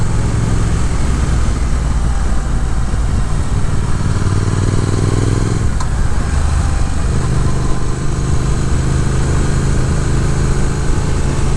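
A 2022 Triumph Speed Twin motorcycle rides along back roads, its engine droning steadily and loudly with a brief rise and dip in pitch midway, overlaid by continuous wind rush.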